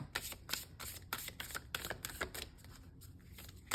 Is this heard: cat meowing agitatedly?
no